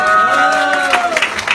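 A crowd applauds and cheers at a gathering about a pyramid-scheme investment, a dense wash of clapping and voices with brief sharper claps near the end.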